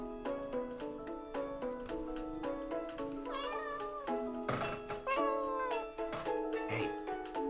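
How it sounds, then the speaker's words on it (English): Close, clear meowing from a house cat seeking attention, two or three drawn-out rising cries in the middle, laid over a steady repeating melodic tune with soft knocks and rustles around it. "That was a cute meow."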